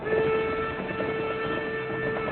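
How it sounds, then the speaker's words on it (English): A train in an old Western drama rumbles steadily at moderate distance, with a faint sustained whistle-like tone over the low continuous rolling of the cars. "There's our train."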